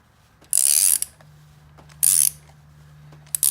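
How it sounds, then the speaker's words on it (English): Ratchet pawl clicking in two bursts with a short tick at the end, turning a spark plug out of a 2004 Saab 9-3 engine, close and crisp against a faint steady hum. "as long as you're not putting any added pressure on the ratchet, you can continue"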